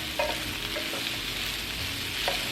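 Onions softening in a hot pan, an even close-up sizzle broken by a few soft scrapes of stirring, steady and without speech.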